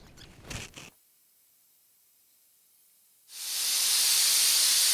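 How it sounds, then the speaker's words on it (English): Air compressor releasing pressure: a brief rustle, a silent pause, then a loud, sustained hiss of escaping air that builds and holds steady. "So now I'm going to relieve some air"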